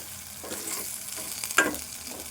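Onion greens and green chilies fry in a pan for an egg fry, giving a faint, quiet sizzle broken by a few soft stirring scrapes, with one sharper clink near the end.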